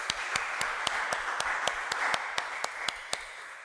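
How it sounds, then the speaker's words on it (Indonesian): Applause from a church congregation welcoming the pastor to the pulpit at a Sunday service, a soft continuous wash of clapping with one sharp, close clap ringing out in a steady, evenly spaced beat above it. "mari kita sambut dia dengan tepuk tangan yang meriah."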